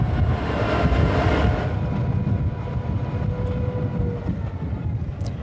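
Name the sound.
Algoma Central tour train crossing the Agawa River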